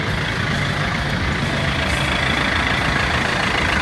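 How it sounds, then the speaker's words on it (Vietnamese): A Vinaxuki 2.5-ton dump truck, fitted with a turbocharged four-cylinder diesel, idles close by with an even, steady rumble and no voices. "Xem cái tiếng nổ của động cơ ha"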